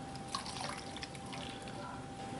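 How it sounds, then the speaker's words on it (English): About a cup of water is poured into a slow cooker holding duck, smoked pork hock and dehydrated ingredients, giving a soft continuous splashing and trickling that is close and steady. "I'm going to add about a cup of water just because I have all that dehydrated stuff in there."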